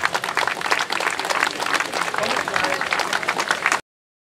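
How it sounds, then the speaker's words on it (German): An audience at a peace rally against the war in Yemen applauds a speaker with loud, dense clapping and some crowd noise for nearly four seconds, then it cuts off abruptly. "Ein Applaus für Matthias Tretschok."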